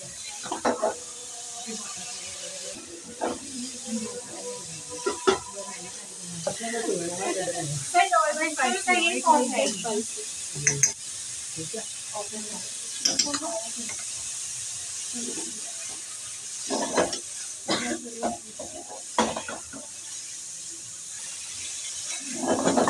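Ginger garlic paste sizzling in a pan for chicken chowmein, a steady hissing sizzle under a person talking, with clinks and stirring scrapes in between.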